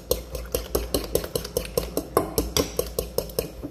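A utensil stirs chopped tomatoes and onions in a bowl, giving a quick, regular series of close clinks and scrapes, about four per second, with no talking.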